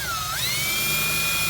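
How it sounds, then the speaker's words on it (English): A high-pitched power drill with a dull bit whines steadily, its pitch rising briefly as it bites into the metal door of a Ford Fairmont wagon, loud and close. "you should probably use a sharper drill bit than this one"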